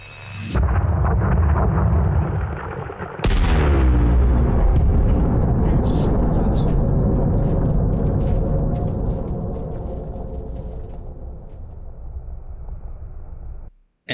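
An asteroid blows apart in a space video game: a sharp onset, then a huge roaring detonation that swells, rumbles and slowly decays over many seconds before cutting off.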